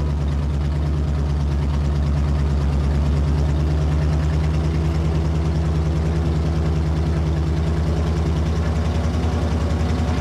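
A small tracked vehicle, a chenillette or little tank, idles with a steady low mechanical drone while counter-steering, its rumble even and close throughout with a faint higher whine joining partway through.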